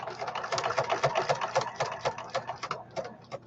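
Close and brisk, a sewing machine stitches fabric back and forth for a custom travelers notebook cover, its rapid rhythmic chatter running in short bursts for a few seconds with no voice over it.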